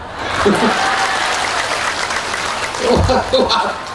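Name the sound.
audience applause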